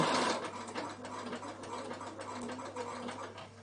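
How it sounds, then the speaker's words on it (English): A Bernina sewing machine stitches fabric binding with a steady, fast mechanical whirring and rapid ticking, running continuously at close range without talk. "I'm going to stop sewing."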